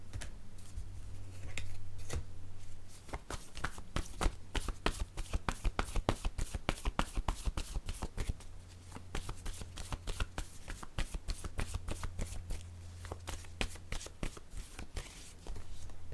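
A deck of word cards is shuffled repeatedly up close, a dense run of riffling flicks and soft snaps that carries on steadily with short pauses and no talking.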